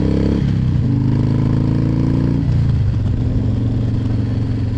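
A motorcycle engine revving up close and loud, with stepped changes in pitch as it climbs and then settles, steady throughout with no talk.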